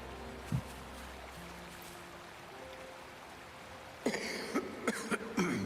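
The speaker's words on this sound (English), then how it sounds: "Damn, that's a big cough." A character in the Wuthering Waves game gives a few heavy coughs, loud, close and spread across the last seconds, following a quieter stretch of ambient game sound.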